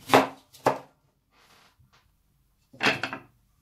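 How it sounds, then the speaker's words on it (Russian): Three sharp, close knife chops cut an onion on a board, two quickly together and one after a pause, with faint scraping between. "Давайте вначале нарежем лук."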